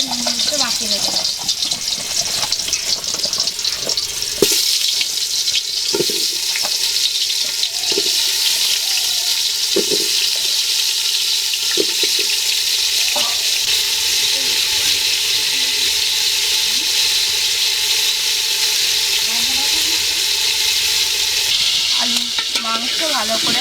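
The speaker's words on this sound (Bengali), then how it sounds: "হাঁড়িতে সরষের তেল দিয়ে দিয়েছি, তেল গরম হয়ে গেছে, এবার আলুগুলো একটু ভেজে নেব।" Potatoes fry in hot mustard oil in a pot, giving a steady, close sizzle throughout with scattered soft clicks and scrapes of stirring, and no talk over it.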